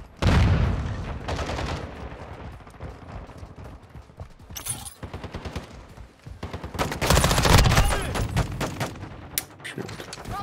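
Rapid bursts of BAS-P submachine gun fire in Call of Duty Modern Warfare 2 on a shoot house map, loud clustered volleys with short gaps, a brief pause midway, then heavier sustained firing.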